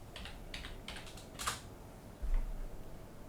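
Someone types a short command into the command prompt on a computer keyboard, producing a few quick bursts of key clicks, one sharper strike, and a soft thump near the end, close and quiet.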